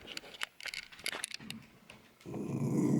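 Small dachshunds indoors, one tucked behind a couch, give scattered sharp barks and low growls at close range, ending in a sustained rough growling rumble.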